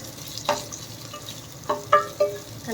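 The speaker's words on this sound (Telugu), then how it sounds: "నెక్స్ట్ వచ్చేసి ఆనియన్స్ వేసుకుంటున్నాను ఇలా ఆనియన్స్ని కూడా బాగా" Onions frying in a pan for mushroom biryani, heard as a few short, quiet scraping stirs and faint sizzle at roughly even intervals against a low background.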